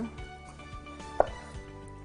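Knife chopping a tomato into small cubes in a home kitchen, soft irregular chops with a sharper single hit midway, under steady background hum.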